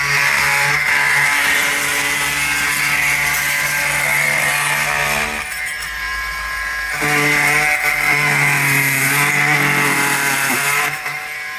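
A power saw cuts down into the wooden sill of a sash window during repair work, a loud, harsh motor whine running almost nonstop for about eleven seconds, briefly easing in pitch and level near the middle before revving back up.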